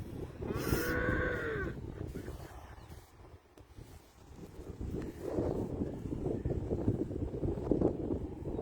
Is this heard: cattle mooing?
yes